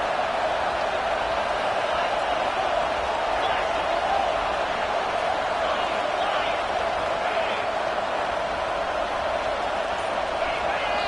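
A roaring stadium crowd at an Iowa versus Illinois college football game makes a steady, dense wash of noise throughout, loud and unbroken, with a commentator's voice faintly mixed in.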